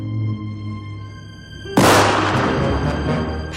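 A single sharp gunshot in an animated fairy tale cracks out abruptly and its noisy blast decays slowly, following a low droning tone.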